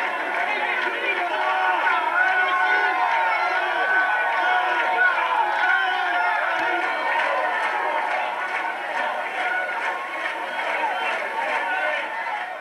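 Toulon rugby supporters crowding around and cheering as the players arrive at Stade Mayol before a match against La Rochelle, a dense, loud, continuous crowd roar with chatter and shouts throughout.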